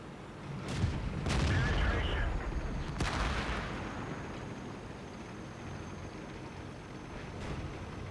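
Tank artillery in World of Tanks, a few heavy booming shots with rumbling tails at irregular intervals, moderately loud over a low battlefield hum, with a voice talking beneath.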